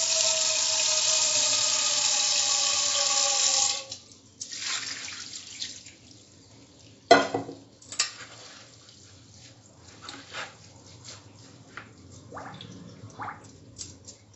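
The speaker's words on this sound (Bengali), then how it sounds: "এর মধ্যে আরও খানিকটা ঠান্ডা জল ঢালছি আমি।" Cold water pours from a tap over boiled noodles in a strainer, a loud steady splashing stream for several seconds, then stops, followed by scattered drips, clinks and light handling sounds.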